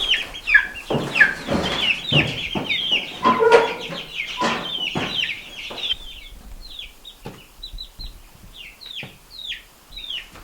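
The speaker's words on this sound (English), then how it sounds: "Now we got all the chicks into their new brooder with lots more space and room to grow for a long time." Young chicks in a brooder peep and cluck continuously, a dense flock of high chirps close by, busiest at first and then thinning to scattered calls.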